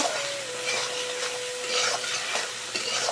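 Spices and cumin seeds frying and being stirred in a pan, giving a continuous sizzle with repeated scraping strokes from the spoon and a steady hum underneath, heard close with no talking.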